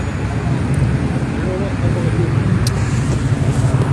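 Road traffic in Muscat, Oman, a steady low rumble of passing cars and engines that stays fairly loud throughout, with a brief sharper noise near the end.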